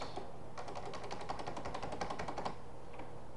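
Quiet, rapid clicking of keys in a short burst of typing, faint against a steady background hum.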